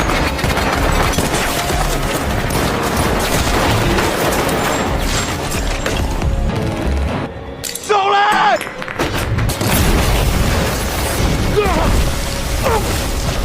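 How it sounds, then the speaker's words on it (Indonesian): A shootout between two rival groups in a film scene rings out as dense, loud gunfire bursts over busy action sound, with a brief lull midway and speech mixed in. "Mereka saling tembak tanpa sayang nyawa."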